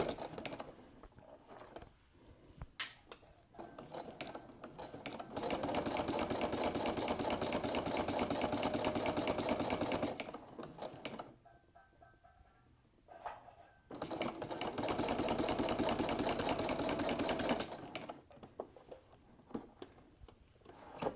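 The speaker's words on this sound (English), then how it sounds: "we're just going to stitch straight down, 1/4 inch seam allowance." A sewing machine runs a straight quarter-inch seam on a triangle quilt table runner, two steady bursts of rapid, even stitching about eight and four seconds long, separated by a quieter pause with light handling sounds.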